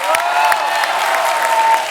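A studio audience on a Hindi comedy show breaks into applause, a bright continuous patter of many hands clapping together throughout.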